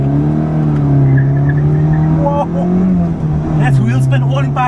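A Toyota Corolla Twincam GLI engine drones loudly from inside the car as it accelerates hard, its pitch rising and dipping through gear changes, while a voice talks over it.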